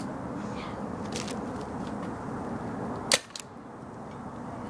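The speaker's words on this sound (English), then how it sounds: "We're gonna shoot paintballs from a paintball gun." A paintball gun fires two quick, sharp pops close together near the end, over a steady background hiss.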